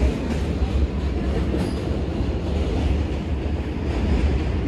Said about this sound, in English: a lot of trains.